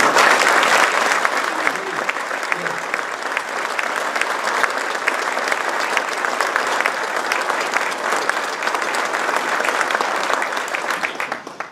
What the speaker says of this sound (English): I'd like to ask for a round of applause for everyone involved.